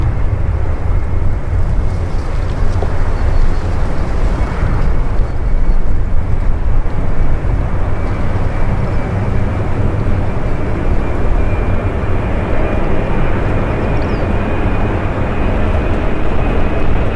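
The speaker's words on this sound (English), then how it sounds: "737, taking off with a strong headwind, rotated much later than expected, dangerously close to the runway's end" A Boeing 737 on its takeoff run into a strong headwind roars as a loud, continuous broadband jet rumble, heavy in the lows and steady across the whole stretch, with wind buffeting the microphone.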